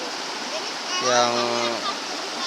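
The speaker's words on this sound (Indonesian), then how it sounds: "Di Sungai Cibaregbeg ini ada satu" A waterfall on the Cibaregbeg river at Curug Leuwi Petir gives a steady, moderate rushing roar that runs throughout, while someone speaks briefly over it midway.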